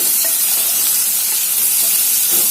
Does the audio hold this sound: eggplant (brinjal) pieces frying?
yes